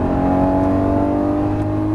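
A Lamborghini Murciélago accelerates hard on the Las Vegas Motor Speedway track, its engine a loud, steady, sustained roar heard from inside the car with no talk.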